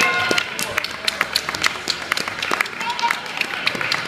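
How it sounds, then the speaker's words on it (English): Scattered clapping from an audience at a vegan festival Q&A greets a guest, uneven claps of moderate loudness with voices and chatter mixed in throughout. "We'd like a big round of applause, please, for Wendy Turner-Webster"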